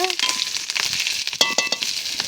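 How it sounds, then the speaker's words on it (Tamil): Curry leaves being stirred and sautéed in a hot pan, giving a soft steady sizzle with scattered scraping and stirring clicks close by. "முழுக்கமிலையும் போட்டு கிளறி வதக்கிட்டு"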